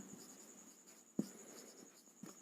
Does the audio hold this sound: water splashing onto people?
no